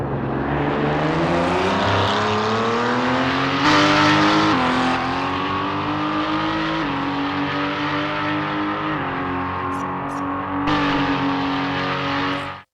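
A race car engine in the racing game Project Motor Racing roars loud and steady, its pitch sweeping up and dipping through several gear shifts, with brief drops between changes.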